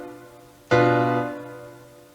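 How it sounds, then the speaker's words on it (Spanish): A diminished chord sounded once on a piano-like instrument in a harmony lesson, a single clean attack after a quiet moment, then a gradually fading sustain with no talking. "Este es el sonido de un acorde disminuido."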